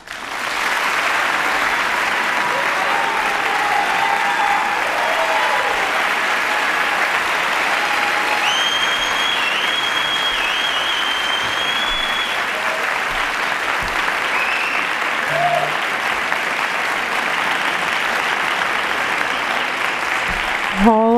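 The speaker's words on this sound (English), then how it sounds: "giving our audience a chance to welcome our candidates tonight with a warm applause" A packed auditorium applauds warmly to welcome the candidates at an Ohio Senate debate between Sherrod Brown and Jim Renacci, steady loud clapping with some cheers and whoops rising within the crowd.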